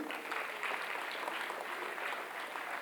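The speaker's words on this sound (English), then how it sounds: "Here we have the finalists, and they all deserve, I think, a bigger applause from our side." Audience applause for the finalists at a regional competition final, a soft, distant wash of steady clapping that continues evenly throughout.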